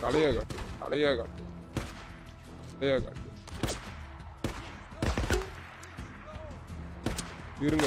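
Machine gun fire in the video game Days Gone: sharp, spaced gunshot cracks hit in short bursts under loud, excited talking.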